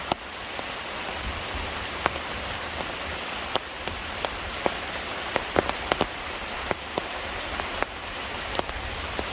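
Steady rain patters on a taut tarp close overhead during a mountain thunderstorm, with heavier drops tapping irregularly throughout.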